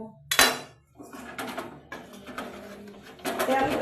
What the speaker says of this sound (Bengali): এবার আমি চাউমিনটা এই গামলাটার মধ্যে আমি ঢেলে নেব